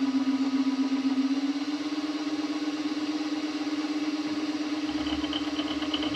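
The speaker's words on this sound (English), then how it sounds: "we're going to cut our slot. We're running about 400 and 500 RPMs." A PM-25MV milling machine cuts a slot slowly at about 400 to 500 RPM, giving a continuous, even motor hum with a faint scraping texture and no pauses or talk.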